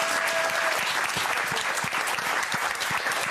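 A French TV talk show studio audience claps loudly and continuously, a dense wash of applause filling the whole clip.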